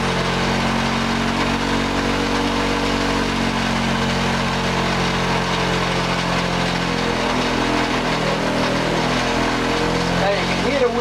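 Polishing wheel grinding against a 25-year-old exhaust pipe under load, a loud continuous motor drone and hum that dips slightly in pitch as it slows, with a faint voice over it.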